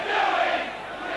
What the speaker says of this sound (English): The referee coming into some criticism from the crowd as the touch judge comes on.